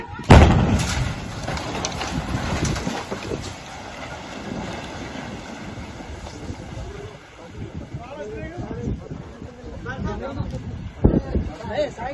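A building illegally built in a lake is brought down with explosive charges in Sangareddy. One sharp, loud blast hits at the start, then rumbling, clattering debris and wind noise follow, with voices mixed in.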